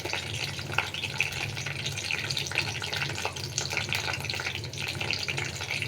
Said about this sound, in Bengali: কারি পাতাটাকে একটু ভাজা ভাজা করে নেব।